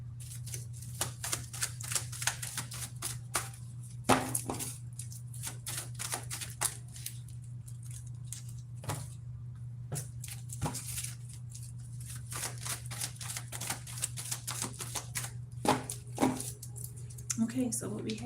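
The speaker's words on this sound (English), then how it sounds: "Let's pull some cards from this customized deck." A customized card deck is shuffled and cards are pulled from it, making quick dry clicks and flutters in steady bursts over a low constant hum.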